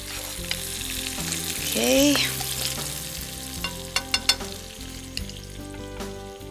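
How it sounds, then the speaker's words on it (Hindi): Onions sizzle steadily in a hot pan, with a few sharp clinks of a spoon stirring against the metal; no one speaks. "अब प्याज को थोड़ी देर सौटे करेंगे जब तक इसका रंग गुलाबी ना हो जाए"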